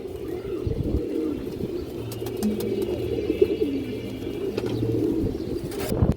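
Very colorful domestic pigeons coo in low, throaty, repeated calls, close by and fairly loud. The cooing runs steadily throughout with faint chirps and rustling in the background.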